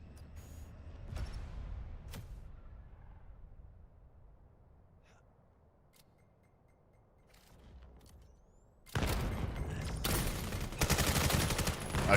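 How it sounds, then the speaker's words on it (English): Gunfire and grenades from the VAIL VR shooter: scattered sharp shots and faint clatter early on, then a dense, loud burst of rapid fire in the final few seconds. "LMK rolling the nade and shooting with the other"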